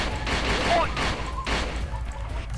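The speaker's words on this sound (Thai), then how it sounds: "โอเคนี่ยิงห้านัด" Gunfire in a first-person shooter video game: a quick run of several shots in rapid bursts under an excited voice talking.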